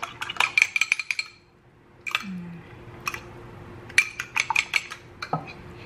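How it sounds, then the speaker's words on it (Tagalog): An egg for egg wash is beaten in a bowl with a utensil, making quick bursts of rapid clinking taps against the bowl separated by short pauses, close and fairly crisp, with no talk. "So, just one egg and beat. Or mix it."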